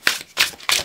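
Tarot cards being shuffled: three short, crisp papery bursts evenly spaced, close and moderately loud, with no talking.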